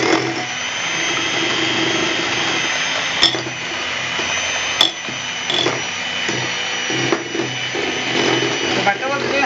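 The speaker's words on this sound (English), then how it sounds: "Now I will beat the butter." An electric beater whirs steadily through slightly hard butter for a cake and cookie recipe, a continuous motorized hum with brief knocks and clicks as the beaters hit the bowl, and a voice talks over it.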